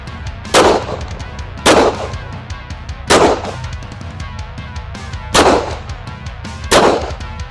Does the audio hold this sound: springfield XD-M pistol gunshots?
yes